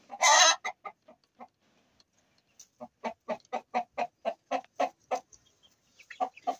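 Close chickens clucking in quick repeated bursts, with a brief louder squawk at the start and short pauses between runs.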